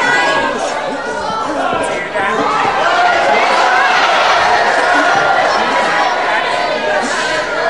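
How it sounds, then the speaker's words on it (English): A dense, loud crowd at a wrestling match shouting and chattering continuously, a close wall of many voices with no single voice standing out. "You know what the crowd are shouting about?"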